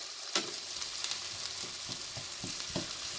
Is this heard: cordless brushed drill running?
no